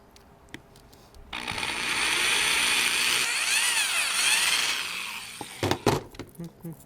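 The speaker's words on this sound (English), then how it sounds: "So I say let's drill on the side." A power drill whines loudly for several seconds, its pitch wavering as it cuts through the side of a lamp housing, then stops, followed by a few light clunks.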